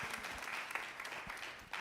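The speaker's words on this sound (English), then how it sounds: "Give him a round of applause, please." Audience applause at a New York State Black Legislative Task Force listening tour in Manhattan, with a dense, steady wash of many hands clapping that stays loud and continuous from start to finish.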